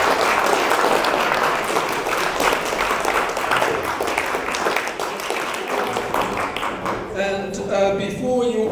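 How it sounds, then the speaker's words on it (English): An audience at a talk breaks into sustained, dense applause that fills the room for several seconds, then thins out as a voice begins speaking over the last scattered claps. "will you please join me in giving Geoff a massive round of applause?"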